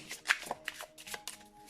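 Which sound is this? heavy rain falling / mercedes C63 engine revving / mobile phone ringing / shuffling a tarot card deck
shuffling a tarot card deck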